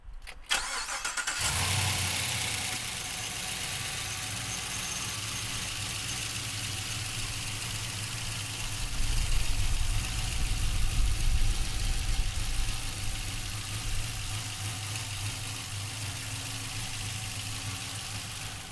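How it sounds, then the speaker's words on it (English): A Chevrolet LS3 V8 in a 1969 Malibu cranks briefly, catches and settles into a deep, steady idle, with a rise in revs partway through before it drops back to a rumbling idle, close and loud. "let's fire this LS3 up"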